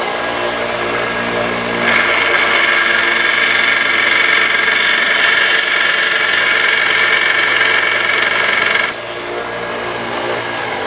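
A wet grinder sharpens a blade with a steady, loud motor drone and grinding whir. The sound swells and holds in the middle section, then drops back to a quieter hum near the end.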